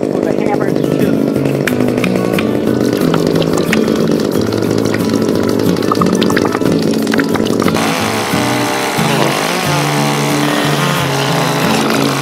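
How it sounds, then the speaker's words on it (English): A loud chainsaw roars continuously, its pitch wavering as it bites into a log, with a person's voice faintly mixed in. "We gutted it with the chainsaw."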